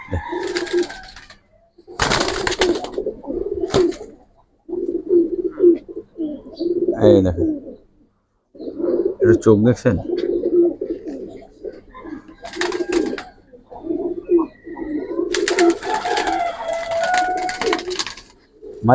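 Pigeons coo repeatedly in low, throaty bursts close by, interspersed with someone speaking and brief rustling sounds.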